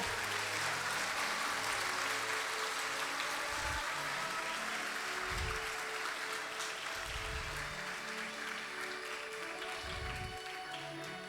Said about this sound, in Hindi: मैं चाहूंगा एक बार जोरदार फिर से ताली बजाई जाए ताकि एक जोश हो।